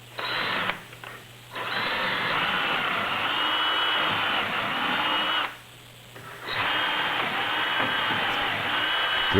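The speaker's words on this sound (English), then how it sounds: "Drill the 2 holes," A power drill bores two dowel holes through a homemade dowel jig clamped to two tabletop panel workpieces, running in two long steady whirring bursts with a brief pause between them.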